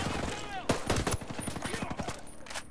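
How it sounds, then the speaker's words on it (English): Rapid bursts of gunfire in the video game Tom Clancy's Ghost Recon Breakpoint: a close, loud volley of shots crackling in quick succession over continuous battle noise. "Are you getting shot at?"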